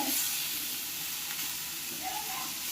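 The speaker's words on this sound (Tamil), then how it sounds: "நல்லா வதங்கணும் கருவேப்பிலை." Curry leaves sauté in a hot pan of oil for chutney, giving a steady, close, broadband sizzle that holds evenly throughout with no pauses.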